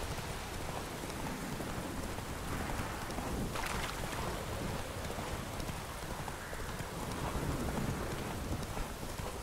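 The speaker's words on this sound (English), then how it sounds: "Some bad weather." Steady, dense rain pours down during a thunderstorm in The Witcher 3: Wild Hunt, a continuous hiss of drops with a faint low rumble of thunder, with no voices over it.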